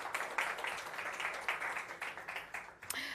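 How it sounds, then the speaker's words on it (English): An audience applauds a panelist being welcomed onto the stage at a panel discussion on inclusive growth in South Africa, a fairly faint, steady patter of many hands clapping that fades out near the end. "A round of applause, please, for Trudy."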